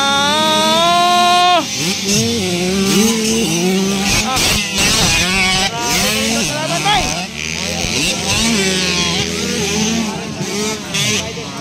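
50cc motorcycles racing in a 65cc-category final heat at President Roxas, engines buzzing and revving as bikes pass, mostly under loud, excited commentary.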